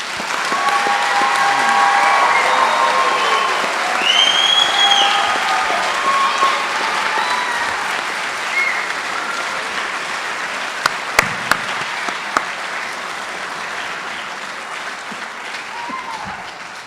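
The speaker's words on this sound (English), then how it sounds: "Let's give them a round of applause." A large graduation ceremony audience for a youth academy class gives sustained applause and cheering, with a few whistles and shouts over the dense clapping, which slowly thins toward the end.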